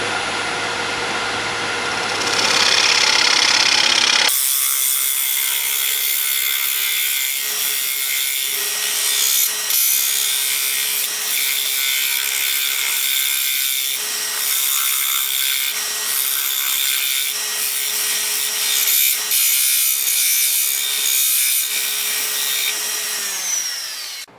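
A turning tool cuts a wood and epoxy pencil-clock blank on a lathe, giving a steady, close scraping hiss over a constant motor hum for most of the clip.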